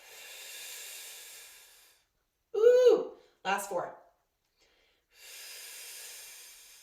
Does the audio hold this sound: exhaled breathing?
yes